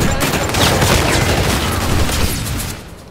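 Dense, continuous gunfire from the Call of Duty video game on Xbox, rapid overlapping shots and booms forming a loud, sustained barrage that eases off near the end.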